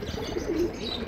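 A new pigeon in a training flock gives a single brief, low cooing call, close by against a soft background hum.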